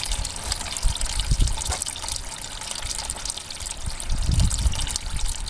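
An oil and gas mix drains from a Murray engine. Liquid trickles and splashes steadily at close range, with a few heavier gushing moments and faint handling noises.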